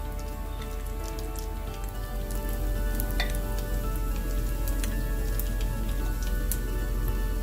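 Battered cauliflower florets for Gobi Manchurian frying in hot oil, a steady close crackling sizzle dotted with sharp pops, with no voices.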